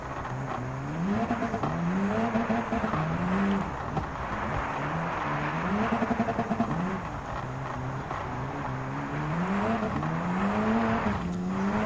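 A Gr.B rally car in Gran Turismo 7 races over bumpy snow in a rallycross event, its engine droning and revving in rising, falling waves with rough tire noise, loud and continuous, no talking.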